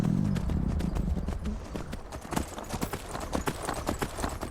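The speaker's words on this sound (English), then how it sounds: "Is that just a lone horse?" A lone horse's hooves clip-clop steadily in Skyrim, starting near and loud over a low rumble, then continuing as a quicker, lighter patter.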